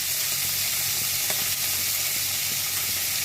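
Prawns hit a hot frying pan with onions and green and red chillies, giving a loud, continuous close sizzle and hiss with faint stirring scrapes, and no talking.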